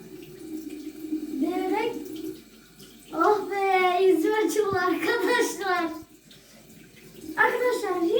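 Cold tap water runs steadily while a face mask is washed off, with splashing throughout and people talking over it.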